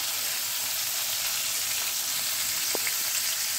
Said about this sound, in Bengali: এর সঙ্গে দিয়ে দিচ্ছি পেঁয়াজ কুচি, রসুন কুচি আর কাঁচা লঙ্কা কুচি। এটাকে একটুখানি ফ্রাই করে নেব